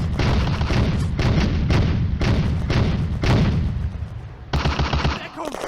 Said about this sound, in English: Two more suspected Soviet tanks are identified firing towards the crossroads.